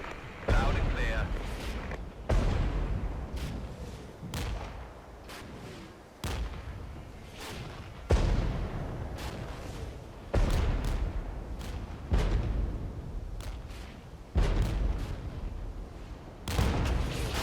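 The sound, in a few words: artillery fire in the video game Regiments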